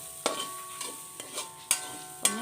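Cashew nuts frying in oil in a pan with coconut, giving a soft steady sizzle under a few sharp stirring scrapes at irregular intervals.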